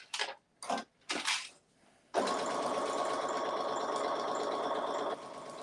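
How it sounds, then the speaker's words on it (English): Sewing machine stitching quarter-inch quilt seams, several short bursts of rapid stitching followed by a longer steady run of fast mechanical whirring and clatter, close and clear. "And then we're going to sew that one down."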